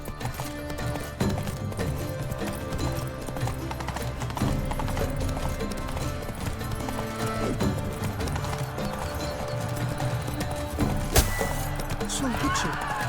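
Roach the horse gallops in The Witcher 3, with rapid hoofbeats running under game music and ambience throughout, steady and close.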